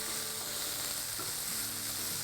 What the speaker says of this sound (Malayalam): ഇനി ചുവന്നുള്ളി ഒന്ന് വഴണ്ട് എടുക്കണം